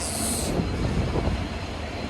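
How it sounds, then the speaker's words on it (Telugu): A train at Cherlapalli railway station gives off a steady, low rumbling roar with a brief high hiss at the start, heard alone without talk. "Cherlapally railway station"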